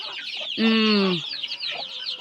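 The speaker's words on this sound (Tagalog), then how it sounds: "Dito na side, andito naman yung mga sisiw." Chickens on a farm with native and Rhode Island Red birds, where a close hen gives a loud drawn-out cluck over a constant chorus of high peeping chicks.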